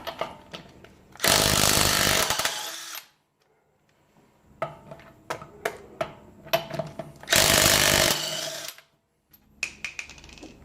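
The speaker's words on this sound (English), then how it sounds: "let's go ahead and put the 21mm socket back onto the impact wrench, and let's go ahead and give it another try" An Earthquake XT 3/8-inch 20V cordless impact wrench with a 21mm socket hammers off car lug nuts in two loud, sustained rattling bursts, separated by clicks and clanks of handling.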